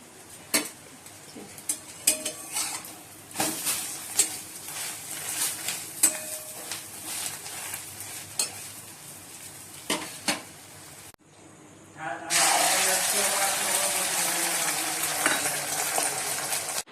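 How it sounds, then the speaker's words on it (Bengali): Eggs being fried in a pan, heard first as scattered clinks and taps of utensils, then a sudden loud, steady sizzle close by that holds to the end. "ডিম ভাজছি"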